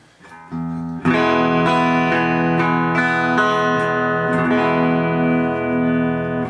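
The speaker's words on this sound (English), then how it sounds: "That's a clean sound. I'm just playing the guitars, neck pickup." Clean electric guitar chords on the neck pickup ring out with warm, rounded tone, starting with a few picked notes and then sustained strummed chords, no voices.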